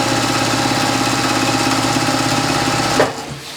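A sewing machine stitches a Yankee Puzzle quilt block in a fast, steady mechanical whir with a rapid needle rhythm, running loud and close before abruptly stopping near the end.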